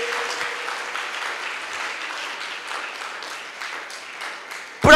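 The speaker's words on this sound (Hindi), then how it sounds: "ताली नहीं बजाएंगे आप वचन के लिए?" A church congregation claps together at a prayer meeting, a dense, even wash of applause holding steady for several seconds before a sudden knock at the end.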